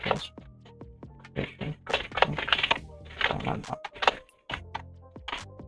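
Fingers type a short post description on a computer keyboard, producing quick irregular clusters of close, crisp key clicks with brief pauses between bursts.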